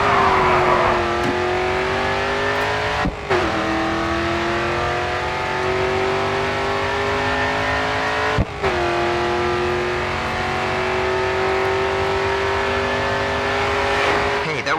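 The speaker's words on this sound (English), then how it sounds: "All right, full throttle now, coming onto the final straight" Race car engine at full throttle in GRID 2, a loud sustained high-revving drone that climbs steadily, broken by two quick gear shifts, with a voice speaking over it.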